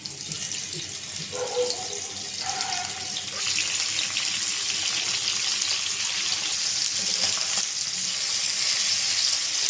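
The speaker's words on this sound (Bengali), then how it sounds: "এখন বাকি মাছটা বেজে নেব" Pieces of Surma fish frying in oil, a loud continuous hiss and crackle that holds strong for the whole stretch, with a brief tonal clink early on and no voices.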